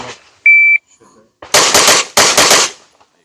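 A SIG P320 pistol fitted with a compensator is fired outdoors after a sharp electronic shot-timer beep, in two very rapid, loud, close strings of shots separated by a short gap.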